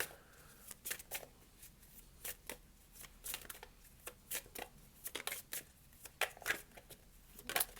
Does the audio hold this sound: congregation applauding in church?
no